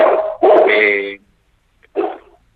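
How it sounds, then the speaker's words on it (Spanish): A dog barks near a radio studio microphone: a loud, close run of barks and a yelp, a brief pause, then one more bark, with no talk over them. "estoy con mi perro cerca"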